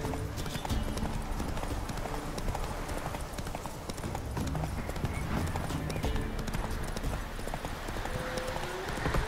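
Steady, dense galloping hoofbeats of a horse in The Witcher 3 run loud and close for nine seconds, mixed with an occasional whinny and busy game ambience.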